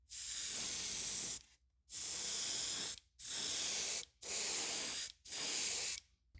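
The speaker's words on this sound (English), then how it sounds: "I'll show you what it looks like when we spray it." Five bursts of aerosol paint spraying onto a wooden trout fishing lure, each a steady hiss about a second long separated by short silent pauses.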